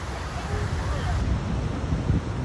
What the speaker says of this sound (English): every wave that was washing up into the actual creek